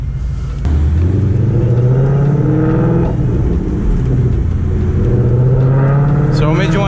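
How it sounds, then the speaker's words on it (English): A Ford Mustang GT fitted with headers and a full exhaust revs loudly close by, a deep rumbling idle rising into throaty rev swells and settling back, with people talking over it. "it's extremely loud. Like it's got headers, full exhaust"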